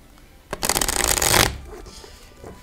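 A deck of tarot cards is shuffled in one loud, close riffle lasting about a second during a card reading, with quiet room tone before and after.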